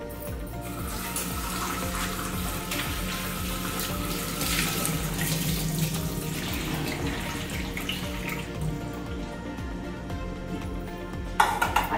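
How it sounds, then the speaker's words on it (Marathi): Raw mangoes are rinsed under a running kitchen tap, a steady close splashing stream of water hitting fruit and sink throughout, with a brief clatter near the end. "त्या आपण आता स्वच्छ पाण्याखाली आधी धुवून घेऊया"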